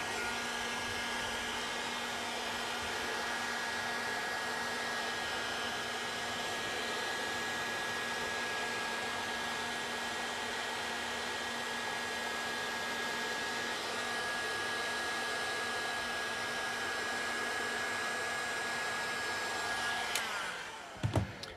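Heat gun warming a part so it takes the shape of its fitting, a steady close blowing roar with a constant whine that runs unbroken, then clicks off near the end.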